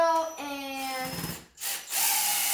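A power drill whines in short bursts near a mini-pond build with mesh, pitch sliding as the motor spins up and slows, a brief gap, then another run.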